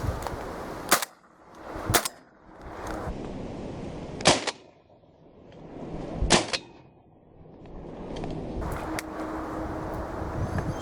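Shotgun shots while decoy pigeon shooting over maize ring out as four sharp, separate reports spaced a couple of seconds apart, loud and close, over a quiet outdoor background.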